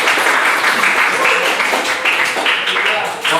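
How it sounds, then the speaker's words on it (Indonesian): A classroom of students claps together, a steady burst of applause rising and sustaining for a few seconds before easing off, with voices mixed in. "Tepuk tangan dulu untuk kasih dua"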